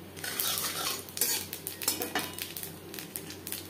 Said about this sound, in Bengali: মাছ ভেজে নেওয়া তেলে ফোড়নে দিয়ে দেবো কালো জিরে